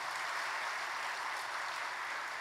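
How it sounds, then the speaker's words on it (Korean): Congregation applause welcoming a newly appointed church shepherd at a Korean church appointment service, dense continuous clapping at a steady, fairly soft level with no voices on top. "박수로 환영해 주시기 바랍니다."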